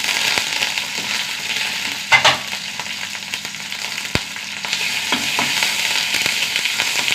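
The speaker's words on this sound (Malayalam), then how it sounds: "ഉള്ളി മൂത്ത് വരട്ടെ" Shallots, dried chillies and curry leaves frying in hot oil, giving a steady close sizzle with brief crackling bursts and light stirring clatter throughout, no voices.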